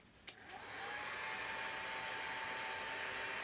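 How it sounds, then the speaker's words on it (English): A hair dryer blows on a freshly painted Witch Elf miniature. It starts with a click, spins up within a second into a loud, steady whooshing whir, and runs on alone without talk. "So I'm going to hit this with the hairdryer."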